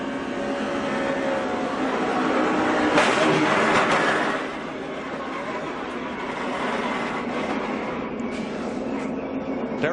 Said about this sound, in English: Now let's ride with Martin Truex.